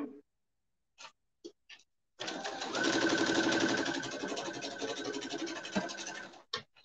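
Domestic sewing machine stitching pieces of a quilt block, a steady close whirring run of several seconds with brief taps of fabric handling before and after, no talking.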